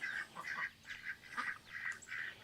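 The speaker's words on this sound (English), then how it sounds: "But we do have ducks in here." Ducks quack repeatedly in their farm pen, a steady run of nasal calls in bursts close by, with no talking over them.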